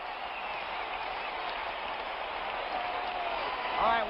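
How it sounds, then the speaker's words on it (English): A 1975 Dallas Cowboys versus Washington Redskins football stadium crowd roars in a continuous, distant wash of cheering with a muffled, band-limited broadcast quality, and a voice briefly cuts in near the end. "listen to this crowd"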